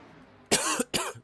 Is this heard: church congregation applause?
no